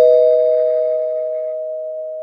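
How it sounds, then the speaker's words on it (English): A single bell struck once, ringing with a steady sustained tone that slowly fades over about two seconds, alone and fairly loud. "Where's my bell here?"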